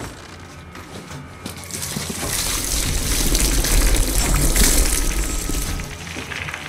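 Water poured over a captive in a waterboarding scene in the Call of Duty Modern Warfare video game, a steady rushing gush that swells louder midway and then eases off.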